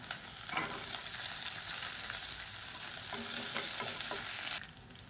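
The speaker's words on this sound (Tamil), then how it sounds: "இது நல்லா பொன்னிறமாக வறுத்துக்கலாம் இது கூடவே பொடியாக நறுக்கின இஞ்சி ஒரு அஞ்சாறு துண்டு சேர்த்துக்கலாம்" Chopped ginger and garlic fry in oil in a pan, giving a constant close sizzle with scraping stir strokes. The sizzle drops abruptly quieter near the end.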